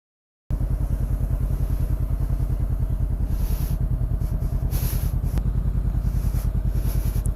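A motorcycle on a road trip starts and settles into a fast, steady, close engine chug that thumps rhythmically without a break.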